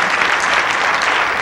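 A crowd at a 2008 United We Walk rally bursts into steady, dense applause in the middle of a speech, a loud continuous wash of clapping with no voices standing out.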